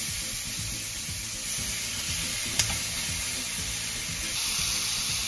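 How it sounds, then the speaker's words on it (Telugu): Chicken tikka kebabs sizzle in a hot oiled pan, a loud, dense hiss running without a break and close up, with one sharp pop partway through. "ఇప్పుడు నేను ప్యాన్ హీట్ ఎక్కింది, నేను ఈ కబాబ్స్ని వేసాను"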